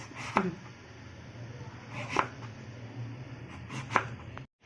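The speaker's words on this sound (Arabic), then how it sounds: "هقطع القلقاس كده زي البطاطس" Knife cutting taro, three faint separate knocks of the blade against a board at steady intervals over a low hum, quiet and close.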